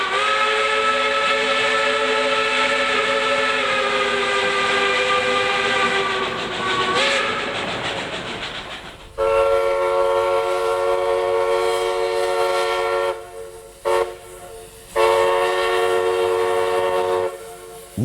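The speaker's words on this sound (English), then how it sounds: "In a chime whistle, the bell is divided into several compartments of different lengths. They sound melodious and even melancholic at times." A steam locomotive's chime whistle sounds loud and close with a rich, multi-tone blast. It holds steady, shifts pitch partway through, then continues as a second long blast broken by short gaps.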